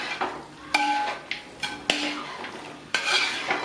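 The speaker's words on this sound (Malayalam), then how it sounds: "നമ്മുടെ മസാലയും വേവിച്ച് വെച്ചിരിക്കുന്ന താറാവും കൂടി നന്നായിട്ട് അങ്ങോട്ട് ഇളക്കി യോജിപ്പിക്കുക" Cooked duck and masala are stirred together in a metal pan for a Kerala-style roast, sharp scrapes and clanks of a spoon striking the pan in an uneven rhythm, close and loud, with a light sizzle between strokes.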